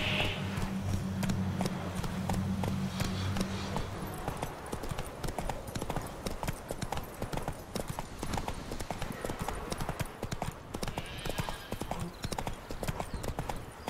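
Steady galloping hoofbeats of a horse in the open-world video game Witcher 3, rapid and continuous clip-clop close up, with a low rumbling game score beneath the first few seconds.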